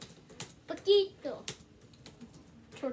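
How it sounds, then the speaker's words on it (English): Typing on a computer keyboard during a Nitro Type race, quick irregular key clicks close to the mic, heard under someone talking and other voices. "why are you typing?"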